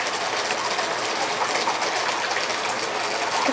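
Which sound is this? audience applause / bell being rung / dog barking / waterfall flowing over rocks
waterfall flowing over rocks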